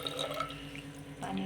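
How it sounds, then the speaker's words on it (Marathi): Water is poured into a pressure cooker holding dal and tomato, a soft continuous splashing and trickling stream heard close and alone. "आता आपण ह्याच्यात पाणी टाकूया"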